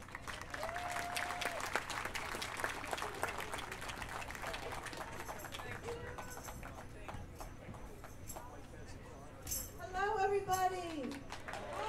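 Applause from a live audience welcoming a band at a concert, steady clapping throughout with a voice and a brief whistle-like cheer near the end.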